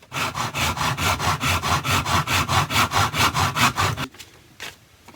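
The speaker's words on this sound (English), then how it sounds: "what I'm going to do is take my sandpaper and just sand that top" A wooden paint stick is sanded by hand with sandpaper: about fifteen even, rhythmic rasping strokes close up, then the scrubbing stops into near quiet.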